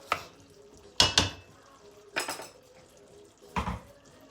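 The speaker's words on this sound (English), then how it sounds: "I'm going to quickly give my pot a stir, so the mince curry" A spoon stirring a pot of mince curry: four separate scraping, clattering knocks against the pot, spaced about a second apart, with a soft cooking hiss between them.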